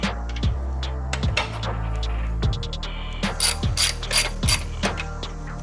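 A ratchet tightens a bolt on the carbon fiber fender of a 2022 11th-gen Honda Civic, giving close, loud bursts of rapid pawl clicks in repeated strokes with short pauses between them.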